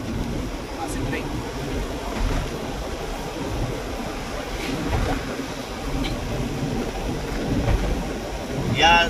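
Steady heavy rain and rumbling thunder fill the air while crossing a long bridge in the Philippines, a constant roaring wash with occasional deeper rolls, and voices faintly audible underneath.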